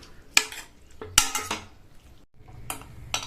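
A metal utensil scrapes and clinks against a pan while stirring chutney, in several short bursts, close by, with quiet pauses between strokes.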